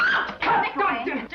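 A dog barks and whimpers in agitated, overlapping bursts during a tense confrontation at a house, with people shouting and talking over it.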